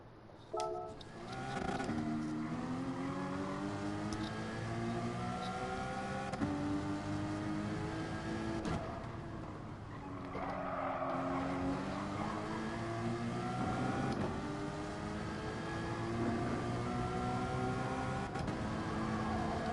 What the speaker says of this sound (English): Audi has that crazy acceleration in the lower speeds